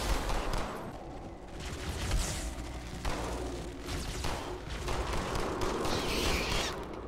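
Pistol gunfire in the video game Halo keeps up under a dense, steady battle din, with repeated sharp shots and booms blending into a continuous loud rumble and no voices.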